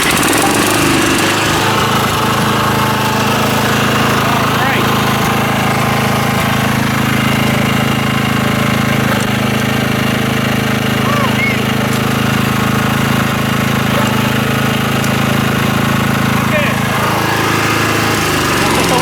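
A used garden tiller's engine runs steadily and loud throughout, with its tines spinning, a continuous droning roar with a strong low hum and rattly mechanical texture, close to the microphone.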